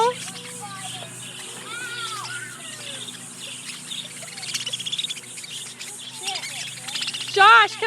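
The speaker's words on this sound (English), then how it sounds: "Look at that, Logan, look at the birdies." Small birds chirp and tweet repeatedly outdoors, with bright, rising calls scattered across the background and a louder burst near the end, alongside steady insect-like buzzing and faint ambient noise.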